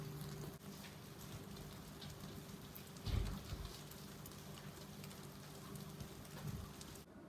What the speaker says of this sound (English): Still raining, so I'm going to do some Spanish homework.